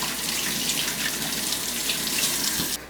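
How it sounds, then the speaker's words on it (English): Hands are washed under a running kitchen tap, a steady close hiss of water splashing into the sink that continues evenly before cutting off abruptly near the end. "Wash our hands."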